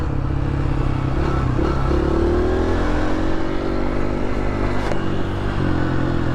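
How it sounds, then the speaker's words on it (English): Dirt bike engine revving steadily while cornering on a dirt track, loud, close and continuous with a raspy mid-pitched drone and slight pitch swells. "Dirt bikes going around dirt corners is a lot different than a side-by-side"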